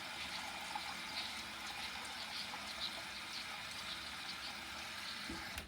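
Hot water pours steadily into a container, a continuous, fairly quiet gushing hiss with faint splashes and no speech.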